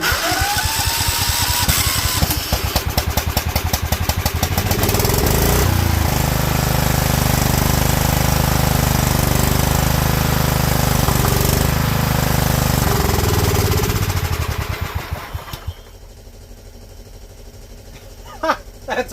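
A 2004 John Deere L110 lawn tractor with a Kohler engine cranks, catches and runs at a loud steady roar for about fifteen seconds, then drops away, leaving faint ticks and a brief voice.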